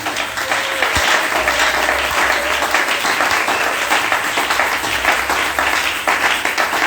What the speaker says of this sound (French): Si tu crois, acclame pour Jésus